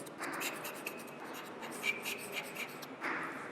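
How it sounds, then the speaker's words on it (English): Chalk or marker scratches across a classroom board during a biology lesson, with several short strokes and taps in an uneven rhythm, faint and close. "Let me write this."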